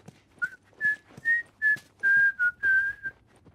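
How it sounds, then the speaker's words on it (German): A person whistles a simple melody of about eight clear sustained notes with short gaps, close and fairly loud, with no talking. "Pfeifen ist gar nicht so schwer."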